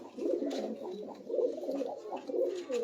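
A rare Sialkoti pigeon coos in repeated soft, throaty phrases, close and clear, rising and falling in short bursts with no talking over it.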